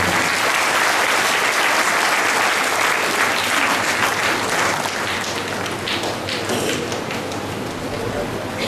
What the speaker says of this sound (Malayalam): തിരുമേനിയെ ഈ സമയത്ത് കൈയടിച്ച് ആദരിക്കുന്നു